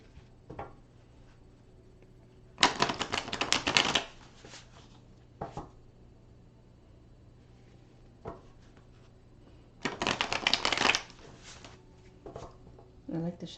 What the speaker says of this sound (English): I like to shuffle 4 times because 4 is the number of completion in ancient Egyptian